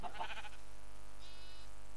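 Two short bleats from a sheep in the Minecraft video game, an earlier low one and a thin, higher one later, each brief and clear against a quiet background with no talk.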